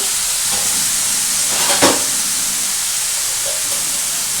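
Snake gourd and prawn curry is stirred in a hot pan, a loud even hiss with one brief scraping stir in the middle; no talking.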